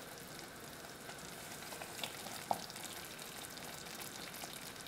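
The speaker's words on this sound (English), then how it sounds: "Alright, I would call that a rolling boil." Sugar syrup for popcorn balls bubbles at a rolling boil, giving a dense, continuous crackling hiss at moderate level with a couple of small pops along the way.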